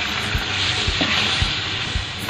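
Tomatoes fry for a kofta curry gravy, a steady close sizzle hissing in the pan with a few soft stirring thumps at regular intervals, and no talking.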